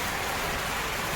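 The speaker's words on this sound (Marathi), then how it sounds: "पाऊस येतोय ना" A brief burst of steady, close rainfall outdoors, a dense unbroken patter with no talk.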